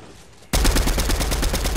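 Pistol gunfire in a video game bursts in after a brief quiet moment, a loud, rapid string of closely spaced shots that continues steadily until the end.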